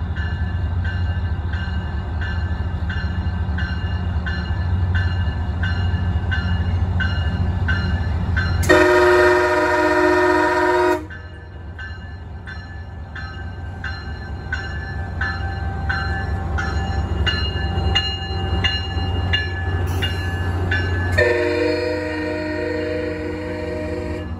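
A Norfolk Southern freight train rolls past in the early morning, a steady low rumble of rail cars throughout, with two loud bursts of horn blasts breaking in partway through and near the end.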